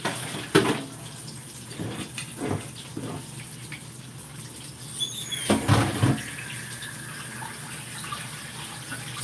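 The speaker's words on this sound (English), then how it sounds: "I'm gonna wash that pan." Tap water runs steadily into a sink while a frying pan used for pork chops is washed, with a few clunks and splashes of the pan being handled close by and a louder gush partway through.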